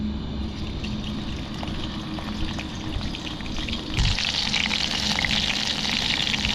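Green chillies frying in hot oil in a small pot make a continuous sizzling hiss that grows louder and brighter about two-thirds of the way in, close and without speech.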